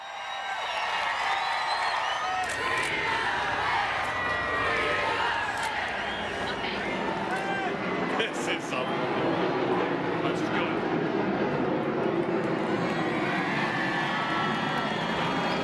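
Large crowd gathering on the National Mall before an event, a steady outdoor murmur of many voices with scattered cheers, a dog barking at moments, and nearby talk mixed in.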